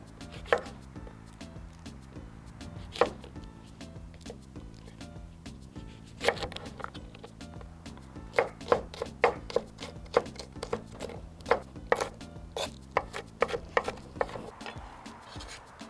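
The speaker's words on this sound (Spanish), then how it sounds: "Cortamos los serranos." A knife chopping serrano chiles on a cutting board, heard as close, crisp taps that begin sparse and then quicken into a fast, steady run of cuts over a low background hum.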